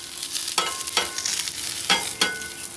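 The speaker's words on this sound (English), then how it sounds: "Let's throw these onions on here." Onions tossed onto a hot Blackstone 22-inch griddle, a steady bright sizzle broken by several scraping, stirring strokes of a spatula against the flat-top, close and alone.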